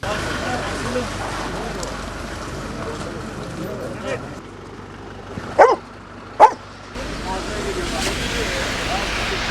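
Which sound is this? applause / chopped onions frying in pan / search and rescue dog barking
search and rescue dog barking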